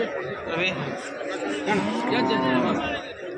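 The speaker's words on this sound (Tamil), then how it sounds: "கலர் மாடு, அருமையான மாடு" Cattle at a busy livestock market in Erode, Tamil Nadu, low moos and bovine calls rising through a dense crowd of chatter, with people talking nearby throughout.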